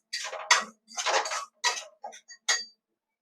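Sugar stirred in a bowl with a spoon, giving a few short scraping, clinking strokes in quick bursts, close and fairly quiet, with brief pauses between them.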